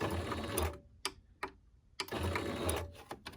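A sewing machine stitches through paper in two bursts of whirring needle strokes, separated by a short pause broken by a few sharp clicks, fairly close and steady.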